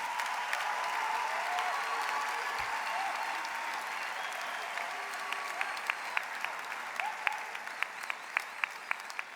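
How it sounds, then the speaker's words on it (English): Audience applause for education graduates at a university graduation ceremony, a steady broad wash of clapping that thins toward the end into sharper scattered claps. "Let us give our graduates a big hand for their hard work and perseverance."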